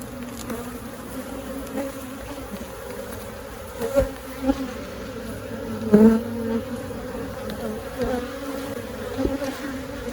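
Honey bees hum and buzz steadily inside an open hive during an inspection, a continuous close drone with occasional louder passes of individual bees near the frames.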